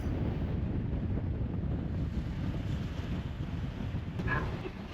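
Wind buffets the microphone on the deck of a ferry crossing from England to Dieppe, a steady loud low roar with rushing noise and no voices.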